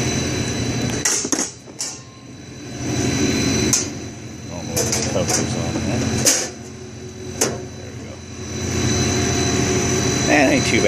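A pump driven by a variable frequency drive runs steadily with a loud, continuous mechanical whine and hum, broken by several short sharp bursts and dips while a person talks over it.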